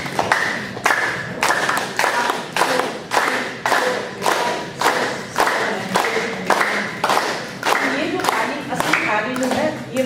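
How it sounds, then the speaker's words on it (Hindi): Hands clap in a laughing yoga session, a brisk even series of loud claps at about two per second, continuing steadily under some voices. "तो ताली करते हैं, कैसे बजाते हैं"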